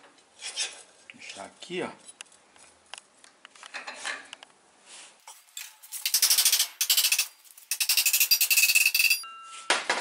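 Metal tubing is being cut in a home workshop: scraping and rasping strokes at first, then loud, sustained harsh grinding bursts with short pauses between them, close to the listener, after someone speaks briefly.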